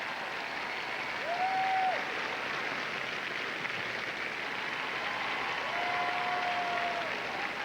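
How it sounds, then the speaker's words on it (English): A large arena crowd applauds and cheers figure skaters at the 2003 World Figure Skating Championships. Broad, continuous applause fills the space at moderate distance, with a few whistles rising above it. "you can feel the crowd rising, and they're cheering it on"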